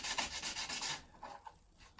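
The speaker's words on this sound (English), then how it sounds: "I've got a bit of emery cloth just to clean it up. So this is the easy bit now. What you've got to do is obviously rub it down." Emery cloth rubbed by hand along a painted hacksaw blade to strip the paint, a steady rasping scrub in quick repeated strokes that grows softer and patchier toward the end.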